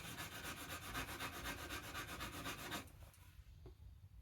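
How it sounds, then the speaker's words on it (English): Velcro sandpaper pads for a Bosch sander, used by hand on wood, make close, steady rhythmic rubbing strokes that stop abruptly near the end. "These are these Velcro pads for a Bosch sander."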